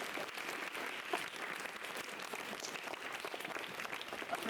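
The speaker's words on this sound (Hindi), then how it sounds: "राखी मैडम के लिए तालियां" A school audience of children claps for teacher Rakhi, a continuous patter of many small hands heard somewhat distant and soft, steady for several seconds with a slight swell at the end.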